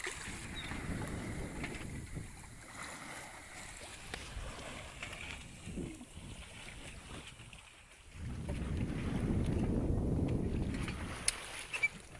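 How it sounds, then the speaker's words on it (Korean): Wind blows at sea around a solo sailboat crossing the Pacific from Hawaii toward the Marshall Islands, a steady low rumble with wind buffeting the microphone that swells louder near the end. "Wind's just blowing straight from there right now."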